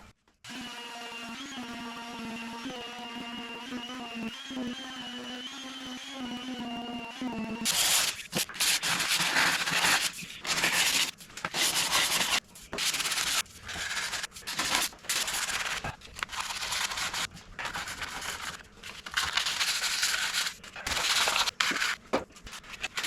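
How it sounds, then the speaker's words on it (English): Hand sanding of dried glaze on a body panel of a crash-damaged Porsche Boxster, a steady rasping scrub in repeated bursts with brief pauses, close and fairly loud, following a short stretch of tonal humming at the start. "let's hope this sands a little bit better than the filler did"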